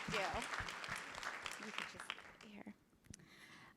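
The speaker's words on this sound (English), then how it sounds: "We should clap for that." Conference audience clapping, a dense burst of applause under a speaker's voice that thins out and fades after a couple of seconds.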